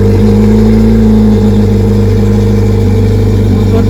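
A 2021 Yamaha VX Cruiser HO jet ski's four-cylinder 1812 cc engine runs steadily and very loudly up close, a constant deep droning roar with strong low hum throughout.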